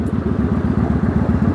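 A motorcycle engine held on the throttle with the clutch in, a loud, close, rapid pulsing beat that stays steady and even throughout with no voices.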